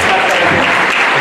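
A lecture hall audience breaks into loud, dense applause, many hands clapping together close to the microphone in a brief continuous burst.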